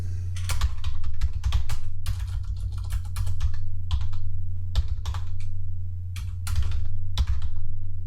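Bursts of fast typing on a computer keyboard as a file name is entered, crisp close key clicks in short clusters over a steady low hum.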